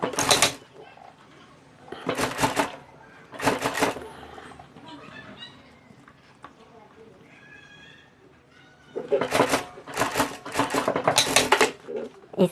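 A sewing machine stitches a handle strip onto a homemade hand bag in bursts of rapid, loud stitching. The runs are separated by quieter gaps in which someone talks.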